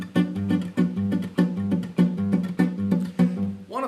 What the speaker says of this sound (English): Fill in the 3rd 16th note as well with a percussive hit, like this